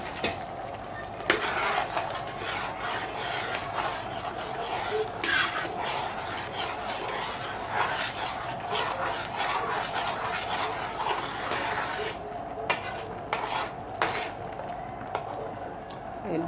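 Spices and garlic stirred into okra in a tagine dish, with steady soft scraping and clinking of a utensil against the pot over a low background hum, no talk.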